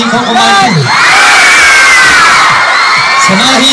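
Loud crowd at a fraternity council gathering in Tagum City cheering, shouting and whooping for a visiting celebrity, a dense sustained roar with high-pitched shrieks throughout.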